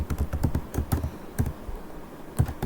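A computer keyboard is typed on in short bursts of crisp, close key taps, some clustered quickly and others spaced apart, as an IP address is entered during ESXi 6.7 setup, with no voices.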